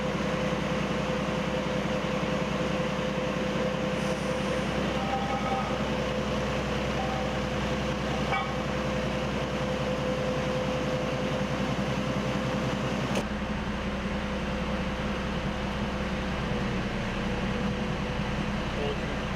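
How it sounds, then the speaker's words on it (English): A locomotive air compressor builds brake pressure with a steady, loud mechanical drone and hum that runs without a break, while faint clanks sit underneath and a voice talks briefly. "that should build air pressure"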